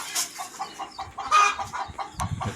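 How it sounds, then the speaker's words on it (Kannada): Several chickens cluck and chatter in short, irregular bursts, fairly close, with a busy farmhouse background alongside a sheep farm and no talking. "ನೋಡಿ ಕೋಳಿ ಇವು."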